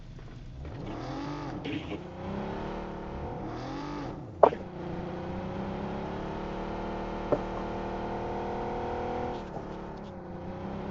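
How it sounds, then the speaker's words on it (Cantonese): Car engines in the PUBG video game on the Erangel map drone and rev, rising and falling as vehicles move, with a couple of sharp clicks and a steady hum underneath. "有啊，2架車聲啊！"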